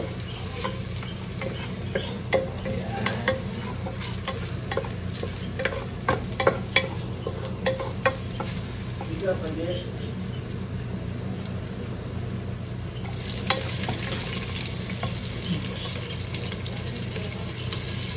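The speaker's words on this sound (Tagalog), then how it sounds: "Ginisa natin sa butter." Garlic sautéing in butter, a continuous close sizzle with occasional spatula taps and stirring clicks against the pan, brightening toward the end.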